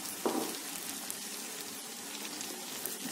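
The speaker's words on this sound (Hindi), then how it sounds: "देखिए, हमारा मसाला अच्छी तरीके से भुन गया है" Turmeric and coriander powder frying in oil in a pan over a medium gas flame for tomato pickle: a soft, steady sizzle with a faint crackle, close and quiet throughout, with no talking.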